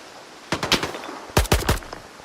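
Gunfire in the video game S.T.A.L.K.E.R. 2 comes as two quick bursts of sharp shots, three or four rounds each, loud and close against a faint background hiss.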